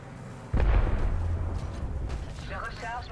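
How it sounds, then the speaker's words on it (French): Grenade explosion in the video game Apex Legends, a sudden loud boom with a heavy low rumble that decays over a few seconds, followed by faint warbling game effects. "Une grenade."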